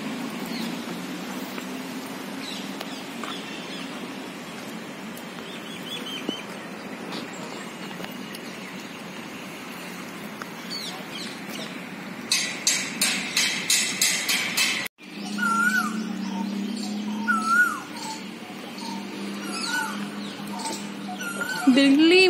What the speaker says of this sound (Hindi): कोयल बोल रही है इतनी प्यारी प्यारी आवाज में।